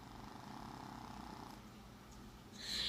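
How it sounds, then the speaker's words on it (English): A dog snoring indoors, a low steady rasping rumble that runs through the whole short stretch at a quiet, close level and swells slightly at the end. "The dog is snoring."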